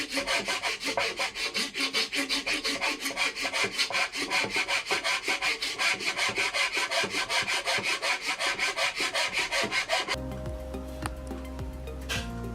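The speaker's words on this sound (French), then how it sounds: "on introduit la lame de la scie horizontalement dans le guide et on extrait la scie horizontalement" A hand saw cuts through a wooden batten held in a saw guide, giving a steady run of rhythmic rasping strokes, loud and close, that stop near the end and leave quieter handling noises.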